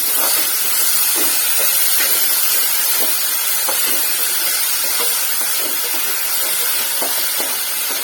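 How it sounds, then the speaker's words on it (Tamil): Tomatoes with salt sauté in a pan for a mushroom gravy, giving a steady, close hiss and sizzle with faint scattered stirring clicks throughout. "தக்காளி நல்லா மசியணுங்க, அந்த அளவுக்கு வதக்கிக்கலாம்."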